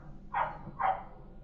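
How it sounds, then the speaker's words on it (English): A next-door neighbour's dog gives two short, faint barks about half a second apart, heard from a distance in an otherwise quiet scene. "And next door neighbour's dog, wild kid."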